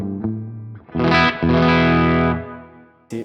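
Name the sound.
electric guitar bridge pickup, bright vintage tone, ES-335 alternative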